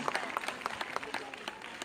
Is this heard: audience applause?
yes